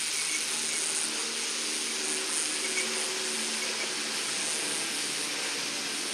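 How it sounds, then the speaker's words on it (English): A helicopter's steady, droning rotor-engine hum overhead on a Grand Canyon trail, constant and moderately loud throughout with no voices. "I heard the helicopter passing by the trail a good hour ago, and now it's flying back"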